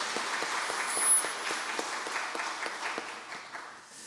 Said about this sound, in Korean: 우리 박수 한번 해주겠습니다.